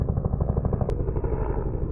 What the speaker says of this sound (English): That's how the Huey sound. The sound of helicopter.